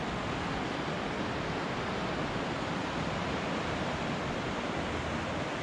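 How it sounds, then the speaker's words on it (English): The river in Khorog in the Pamir mountains of Tajikistan rushes beneath a cable bridge, giving a loud, constant roaring wash of turbulent water with no voices. "Let's go under the cable and check out the river."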